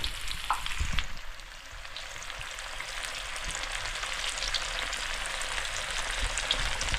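Pieces of barracuda fish frying in oil in a pan, a steady dense sizzle holding at an even level throughout, close and continuous with no voices.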